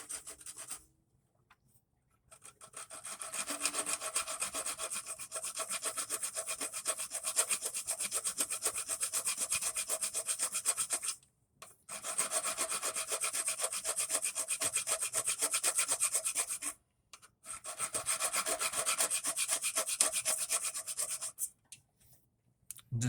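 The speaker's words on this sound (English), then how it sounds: "I'm going to take a file to this right here" Rasping file strokes work a plastic piece of a Turbo 350 kickdown cable, coming in three long, steady bursts of fast back-and-forth scraping with short pauses between, close and clear with no voices.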